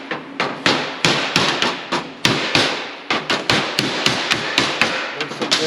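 Hammer blows beat dents out of 1947 Mercury body panels in a shop, a steady run of loud, close metallic strikes in uneven clusters with no talk.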